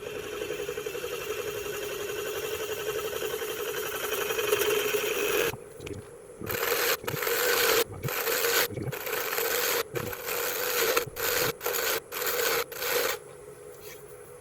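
A steady rasping rub of a tool on a spinning oak burr on a lathe, then choppy bursts of cutting as the tool passes repeatedly, over a constant motor hum.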